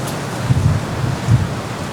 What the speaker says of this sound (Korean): 지금처럼 바람 소리가 지금 장난 아닌데